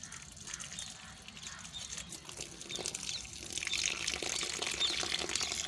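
Water pouring onto plants in a home garden, a soft steady splash and trickle that grows louder and brighter partway through, with faint background sounds.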